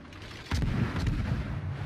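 Naval ship guns firing in World of Warships: a single heavy booming salvo with a sharp onset, followed by a rumbling, rolling tail at moderate volume.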